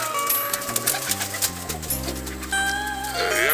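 Racing pigeons coo in a loft, low rhythmic throaty calls repeating close by and fairly loud, with soft fluttering and other bird chirps in the background.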